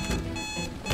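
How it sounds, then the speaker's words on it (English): An alarm clock rings in Hitman 2, a loud steady electronic tone with pulsing bursts that fills the whole second, heard alone. "Hey, bro, I think your alarm is going off"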